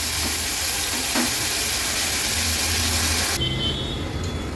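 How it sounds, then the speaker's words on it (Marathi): Onion and a small tomato fry in a pan, a strong close hiss of sizzling that runs steadily and then thins abruptly as the heat or lid changes near the end. "कांदा आणि टोमॅटो आपण थोडासा शिजवून घेऊया"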